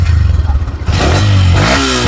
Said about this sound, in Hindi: तो ये थी भाई एक्सट्रीम 125 सीसी की एग्जॉस्ट साउंड।